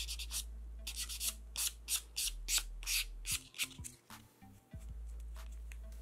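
A sponge buffer rubs over a nail surface in a quiet series of short, rhythmic scrubbing strokes, close and soft, with no talking.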